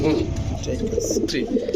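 Fancy pigeons kept for sale coo in short, low, throaty bursts close to the microphone, with a person's voice present alongside the calls.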